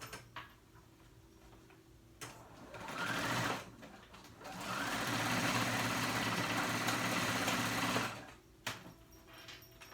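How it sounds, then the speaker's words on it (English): A sewing machine running a zigzag stitch on a skirt in two bursts, a short one then a longer steady run, its fast rhythmic whir loud and close with quieter pauses between. "I'm gonna sew it back on together, zigzag stitch"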